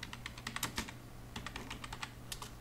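Keys clack on a computer keyboard as a command is typed, quick irregular taps up close in two short runs separated by a brief pause, with no talking.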